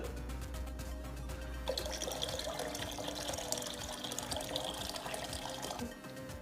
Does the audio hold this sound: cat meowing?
no